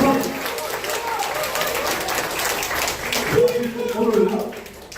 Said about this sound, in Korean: 여러분 다시 한번 박수 한번 보겠습니다.